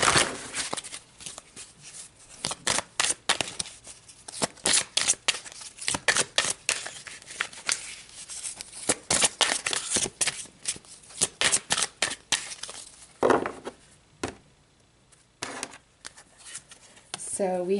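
Tarot cards are shuffled and pulled in rapid riffles and sharp flicks, close and crisp, repeating in quick bursts over a calm voice speaking throughout.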